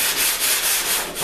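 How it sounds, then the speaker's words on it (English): Auto body filler on a car panel being sanded by hand, a steady dry rasping scrape in continuous back-and-forth strokes, close and fairly loud with no voices. "Now you'll notice I'm sanding in multiple directions."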